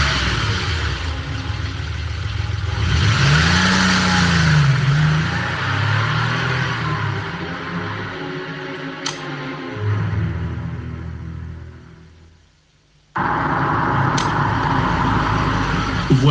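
A car engine drives along steadily with a mid-pitched hum and rumble, rising briefly as it revs, then cuts out to near silence before the engine noise resumes.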